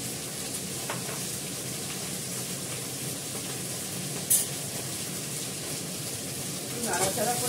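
Food fries with turmeric and salt in a pan, giving a steady, close hiss of sizzling that runs throughout with a few brief sharper crackles.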